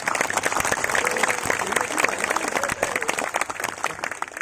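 Crowd at an Indonesian religious gathering with Gus Muwafiq in Kemranjen, Banyumas claps loudly and continuously, a dense steady roar of hands with a voice faintly audible beneath.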